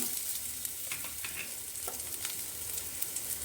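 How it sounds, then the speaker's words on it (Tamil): Mustard seeds and fenugreek sizzle steadily in hot oil in a rasam tempering, giving a continuous crackling hiss with a few sharper pops and no voices. "எண்ணெய் நல்லா காஞ்சதுக்கப்புறம் கடுகு ஆட் பண்ணிக்கலாம். அடுத்ததாக வெந்தயம் ஆட் பண்ணிக்கலாம்"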